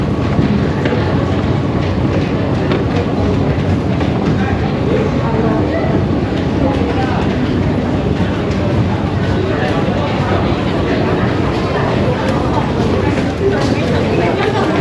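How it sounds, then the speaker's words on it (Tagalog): A Bangkok MRT subway train runs at steady speed, giving a continuous loud rumble and rattle with faint crowd murmur underneath throughout. "Ito yung subway ng Thailand."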